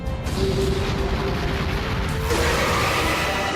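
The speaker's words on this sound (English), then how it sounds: "Firing main cannon!" A main cannon firing sound effect: a continuous loud, rumbling roar with a low hum, swelling into a harsher, brighter blast partway through, like heavy weapon fire.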